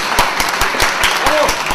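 Crowd applause for competitors at the end of a timed event at a national skills competition in Lille, with loud, close, sharp claps in a regular rhythm over a steady clapping background.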